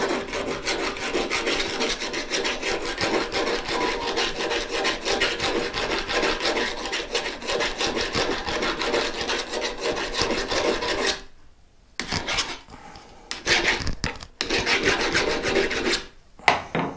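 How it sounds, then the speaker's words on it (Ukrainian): A metal file rasps steadily along a knife blade used for scraping and singeing hair off a carcass, deliberately blunting the edge; continuous close strokes for about eleven seconds, then shorter broken strokes with pauses. "Ось напильник. Туплю спеціально."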